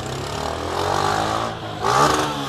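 A Honda CG motorcycle revs up through the corridor between lanes of traffic, the mid-pitched engine rising in two pulls over a steady road rumble.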